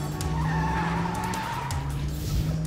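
A car thief's car roars down a two-lane road in Britain, its engine droning loud and close while tires squeal and skid in a sustained screech that bends in pitch.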